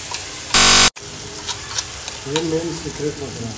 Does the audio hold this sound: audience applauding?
no